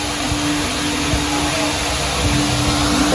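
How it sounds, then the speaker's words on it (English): A vacuum cleaner runs steadily inside a car interior, a loud constant whining roar with slight fluctuations as the nozzle moves, no talking. "I'm about to clean it out, give it a good vacuum."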